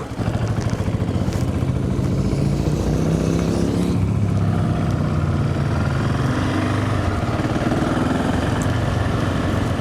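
A 2020 Husqvarna 701 SuperMoto motorcycle engine runs steadily and loudly up close, a continuous low rumble with a slight change in tone partway through, with no talking.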